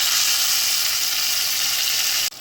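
Ginger-chili paste sizzles loudly in hot ghee with green chili pieces, fenugreek seeds and cumin for a tempering, a dense bright hiss held steady before cutting off abruptly at the end.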